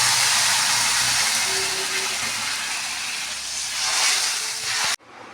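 A pan of potato bora curry hisses and bubbles loudly just after water is poured in, a steady close sizzle that cuts off abruptly near the end.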